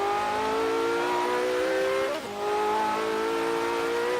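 A Lamborghini-style sports car engine revs hard in the Forza Horizon 3 racing game, a loud sustained whine climbing in pitch, dipping briefly at a gear shift around the middle, then pulling up again.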